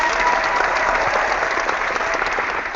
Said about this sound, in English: Slightly delayed clap.